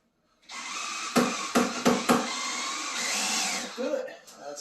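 Power drill driving into a closet accordion door during installation: a steady whirring motor run of about three seconds with several short bursts, under nearby talk.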